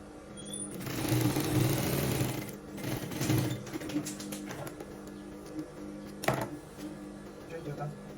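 A sewing machine stitches a half-inch shoulder seam on a button-down shirt in bursts of rapid mechanical whirring and clatter, close by, with a person talking over and between the runs.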